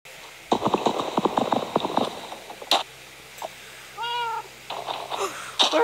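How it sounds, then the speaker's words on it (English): Rapid hoof clip-clops of a ridden horse in a video game patter quickly, then pause; a synthetic cat-like meow and other game sounds follow near the end. "Riding on a horse."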